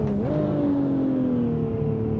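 BMW car engine in the Assetto Corsa racing game, a close steady droning hum with a slight pitch rise early then gradually falling, loud and continuous with no talk.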